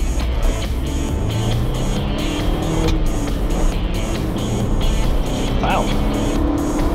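Jeep Wrangler JK fitted with a sprint booster pulls away from a stop on a road, its engine a steady loud drone heard from inside the cabin as someone briefly speaks over it.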